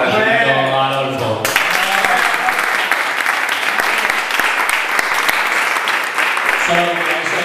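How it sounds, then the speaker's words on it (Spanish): A group bursts into applause for Adolfo at an end-of-season gathering, loud close clapping that starts abruptly after a voice and runs for several seconds before speech returns at the end. "yo creo que merece tener un aplauso y un agradecimiento a Adolfo"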